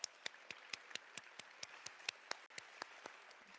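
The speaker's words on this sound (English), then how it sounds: "Can we just have a round of applause for that?" Sparse applause from an awards audience at an educator honors ceremony, faint and distant, with irregular individual claps spread out rather than a full ovation.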